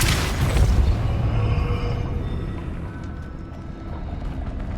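Deep booming force blast of the Depulso spell in Hogwarts Legacy, a low rumbling thump that swells at the start and lingers as a sustained roar before easing off.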